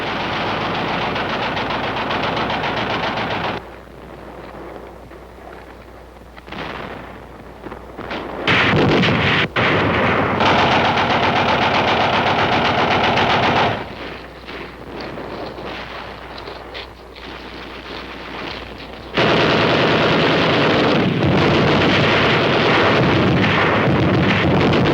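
Army guns firing in the Korean hills, with loud, sustained bursts of rapid gunfire and heavy blasts that come in long waves with brief quieter lulls between them, harsh and close throughout.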